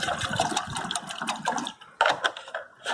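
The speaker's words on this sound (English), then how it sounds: "Just going to fill up my kettle." Water pours from a Ridge Monkey 5 litre water carrier into a kettle at a lakeside fishing camp, a close gurgling splash that falters and restarts in uneven bursts.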